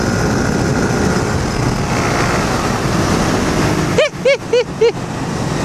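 Continuous loud motorcycle engine noise during a street race, a steady broadband roar at close range, interrupted near the end by a short series of sharp chirping beeps.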